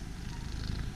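A cat on Yakushima purrs steadily up close, a soft continuous rumbling with no other sounds.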